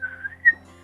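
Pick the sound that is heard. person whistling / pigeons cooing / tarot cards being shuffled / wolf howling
person whistling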